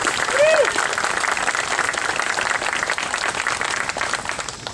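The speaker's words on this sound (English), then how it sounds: "Let's give a round of applause for crowdit.com." Audience at a park grand opening for a Route 66 roadside park applauds, a dense wash of clapping that starts full and slowly thins, with a short vocal sound near the start.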